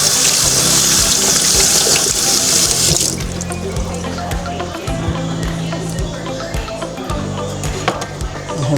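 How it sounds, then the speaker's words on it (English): Water runs loudly from a kitchen tap as cabbage is rinsed in the sink, a steady broadband gush for about three seconds before it stops, leaving quieter kitchen handling sounds with a person talking. "And then I'm going to just rinse it off."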